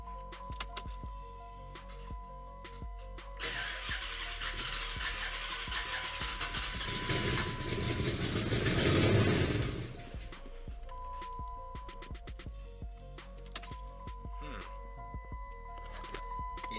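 A car with a torque converter problem starts up and idles roughly. The engine surges into a loud, rough roar for several seconds, then settles into an uneven, droning idle with faint clicks, and a person speaks intermittently nearby.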